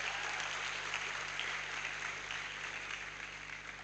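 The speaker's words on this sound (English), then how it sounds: "those in that area of discipline should give him a very, very great applause once again" Audience applause at a university matriculation ceremony, a continuous crowd of hands clapping at moderate distance, steady and slightly tapering toward the end, with no talk over it.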